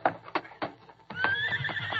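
A horse in a radio drama sound effect first gives a few hollow hoof clops, then lets out a loud, high, wavering neigh that holds to the end.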